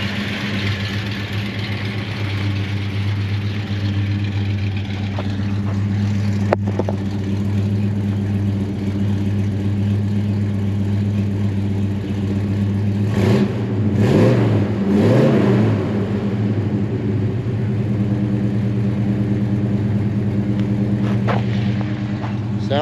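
Close-up 1967 Chevelle Malibu V8 idling with a steady low rumble, then revved in a few quick blips around the middle that rise and fall sharply before settling back to idle, with faint background noise.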